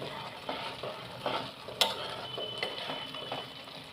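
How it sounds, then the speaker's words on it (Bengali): Carrot halwa cooking in ghee is stirred in a pan: soft, repeated scraping strokes over a faint background sizzle, with one sharper clink of the spoon against the pan partway through. Quiet, close, and without voices. "এটা ভালো করে নাড়তে হবে, নাহলে কিন্তু তলায় লেগে যাবে।"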